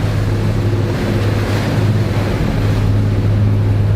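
A Trader 535 Sunliner motor yacht cruising at about 12 knots and 2,200 RPM in building swell, a steady loud engine drone with a low hum under constant wind and water rush, no voices.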